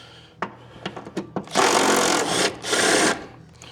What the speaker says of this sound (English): a little 12-volt impact worked